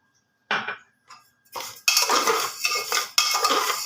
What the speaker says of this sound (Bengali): ডালটা খানিক্ষণ ভাজা হয়ে গেছে এর মধ্যে ডালিয়াটাও দিয়ে দেব